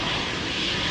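A KLM Embraer 190 jet departing Amsterdam Schiphol gives a continuous loud engine roar with broadband rushing noise, steady and close, with no pause.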